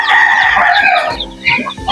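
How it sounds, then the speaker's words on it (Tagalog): Young Texas chickens being raised cluck and peep loudly up close, with overlapping calls and a crow-like cry in a busy, continuous burst. "Ito po yung inalagaan natin na sisiw"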